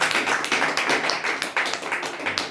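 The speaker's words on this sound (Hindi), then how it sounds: "प्रभु की उपस्थिति के लिए हम ताली बजाएं" A congregation claps together during a fasting prayer service, a steady run of overlapping hand claps filling the room at moderate loudness with no voices on top.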